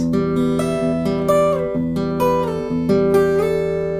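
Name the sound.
bold bright guitar fingerpicking tone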